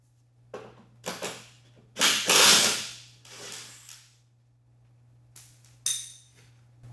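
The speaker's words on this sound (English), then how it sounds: "Well, that bolt just broke." A rusted bolt on an Elan under restoration snaps while being loosened, giving a few sharp metallic cracks and clinks among scattered tool knocks, close and fairly loud over a steady low hum.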